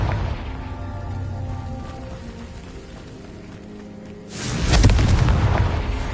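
Confringo fire spell explosion in a Harry Potter video game: a low ambient rumble, then a sudden heavy boom that bursts out late and rolls on loudly to the end.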